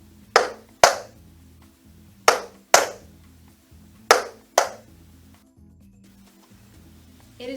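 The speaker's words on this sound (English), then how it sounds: "This is the sound of a shuffle with a better quality of shoe, with a thicker tap and a soundboard." A shuffle in a better-quality tap shoe with a thicker tap and a soundboard gives three pairs of crisp, ringing strikes, each sharp and close and quickly decaying, separated by quiet gaps.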